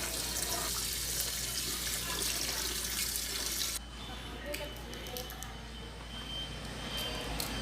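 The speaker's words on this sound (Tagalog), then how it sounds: "hugasan po nating mabuti ang ating roselle" Roselle calyces being washed under a running tap in a sink, a steady rush of water with soft squishing, louder at first and then easing to a quieter trickle with small splashes.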